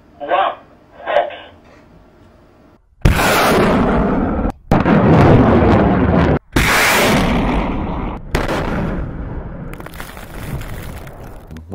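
A Ground Launched Small Diameter Bomb rocket fires at a test launch. Sharp, powerful blasts and a roaring rush of motor noise come after a short spoken countdown, loud and broken into several bursts.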